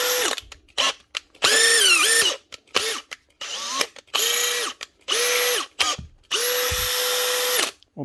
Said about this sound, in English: One Makita drill, a fixed up gearbox and a new chuck.